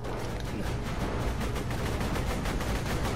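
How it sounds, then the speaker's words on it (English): Rapid bursts of distant gunfire and muffled explosions crackle continuously in a dense, rattling barrage in a video game. "All I can hear is really loud explosions from far, far away."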